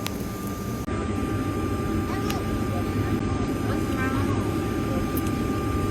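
A private jet's steady, loud engine roar fills the recording from start to end, with voices faintly mixed in.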